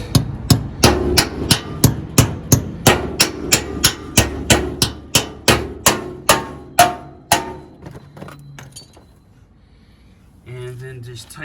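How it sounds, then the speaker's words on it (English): About seventeen sharp metallic hammer strikes driving a sleeve anchor into a metal-framed outdoor kitchen base, in a steady, quick rhythm, fairly close, then stopping into a quiet pause before a brief low hum. "just hammer it in place."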